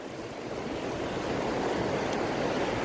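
Ocean waves surge steadily at sea during a fishing trip, a broad continuous wash of water and wind noise that grows slightly louder toward the end, with no voices.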